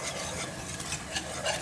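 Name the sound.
flour being stirred and fried in oil for sauce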